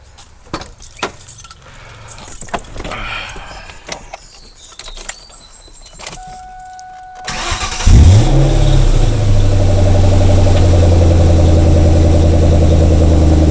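A car is started after an ignition coil change, with keys jangling and clicks before the engine cranks, catches, and settles into a loud, close idle with a rough, uneven misfire.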